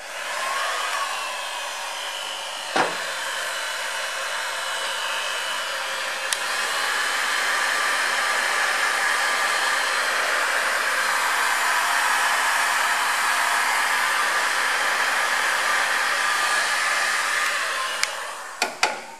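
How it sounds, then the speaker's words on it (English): A heat gun blows with a steady, loud whooshing roar for most of the stretch, shrinking heat shrink tubing, with a few clicks and knocks where it starts and stops. "I've slid a little bit of heat shrink down and we just need to run the heat gun over it."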